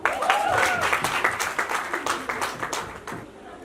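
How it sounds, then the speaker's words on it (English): Clapping from the audience at an International Day of the Girl Child award event, a fairly dense burst that gradually thins into separate claps over a few seconds, with faint voices mixed in. "I thought you would clap."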